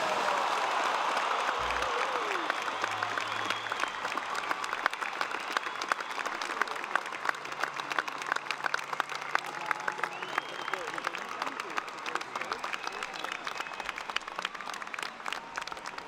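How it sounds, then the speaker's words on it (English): A large university graduation audience applauds and cheers the graduates in a sustained, dense wave of clapping lasting throughout, with a brief voice over the crowd at the start. "why don't we give them one last almighty cheer for what they've achieved"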